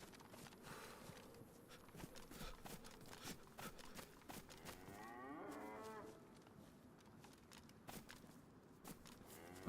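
In the survival video game DayZ, set in Chernarus, a cow moos once, a drawn-out, faint low call near the middle. Soft footsteps, insect buzzing and ambient noise run throughout.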